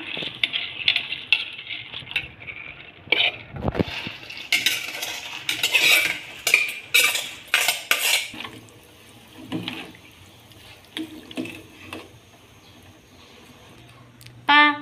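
Mung beans are tipped into a pot of boiling water, with clattering spoon and pot knocks, scraping and stirring in uneven bursts, brief splashes and a faint voice now and then.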